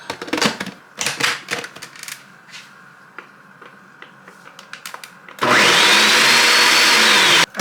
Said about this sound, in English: I am going to go ahead and blend this